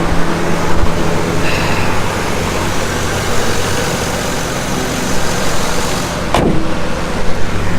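An old truck driving up a road, its engine a steady, fairly loud rumble that holds through the whole stretch with a brief louder swell near the end, no talking over it.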